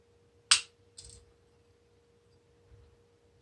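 Wire cutters snipping short pieces of floral wire, a sharp metallic snip followed by a softer second cut about half a second later, close and crisp in an otherwise quiet room.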